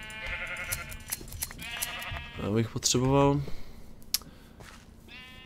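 Sheep in Minecraft bleating several times in short, wavering cries, near and clear, while someone talks between and over them.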